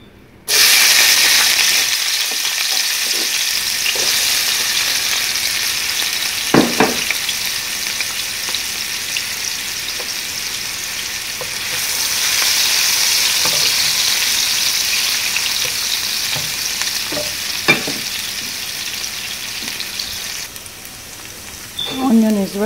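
Onions sizzle and fry steadily in a hot pan, a loud continuous hiss with occasional stirring clinks, running alone throughout.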